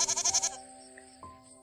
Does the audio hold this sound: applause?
no